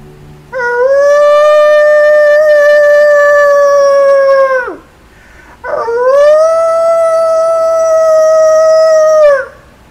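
A person imitates a wolf howl, giving two long, loud, sustained howls close up, each holding a steady pitch before sliding down at the end, separated by a short pause.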